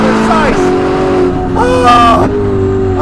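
A 1000hp Ferrari SF90 with a Novitec exhaust revs and pulls on a South African street, its engine note rising and dropping through gear changes, loud and close, with talk over it.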